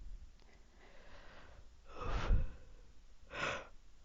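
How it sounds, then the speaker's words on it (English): A single close yawn, a drawn-out breathy exhale swelling then fading, followed by a shorter breath after a brief pause, with no talking. "a yawn that means nothing"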